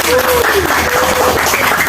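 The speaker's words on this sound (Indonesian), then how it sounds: "Tepuk tangan untuk kita." Social studies students in a classroom clap for themselves, a short, loud burst of group applause with voices mixed in.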